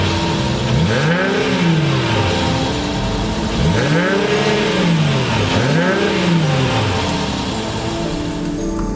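A 2013 Mercedes-Benz GLK350 accelerating on the road, engine note rising and falling through several sweeping revs, loud and close under steady road and wind noise, with no talk.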